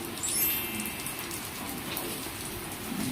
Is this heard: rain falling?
yes